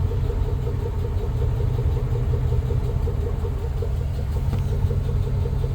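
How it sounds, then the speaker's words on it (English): Steady low rumble from the exhaust of a 2005 Chevrolet Suburban with the engine running, an even idle drone that holds constant and close throughout with no talk. "I guess I should show you the exhaust right now."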